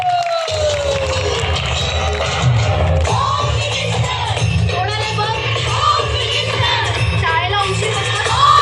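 A crowd at a Navratri Home Minister prize contest in Godre, Junnar, Pune bursts into loud, sustained clapping mixed with whoops and shouts, while voices carry over the din throughout.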